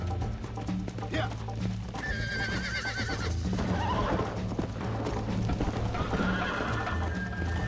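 A horse in the Red Dead video game whinnies several times over a steady rhythm of hoofbeats, mixed with game sounds as people talk throughout.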